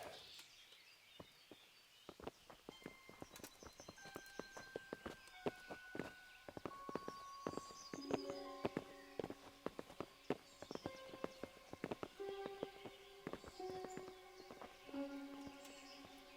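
Horse hooves clip-clop in the medieval video game Kingdom Come: Deliverance, a quiet steady run of hoof strikes that continues alongside birdsong and faint ambient game music.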